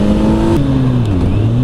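Kawasaki Z900 2021 fitted with an Arrow exhaust, accelerating with a loud, raspy engine note that drops in pitch at a gear change and then climbs again, heard up close without speech.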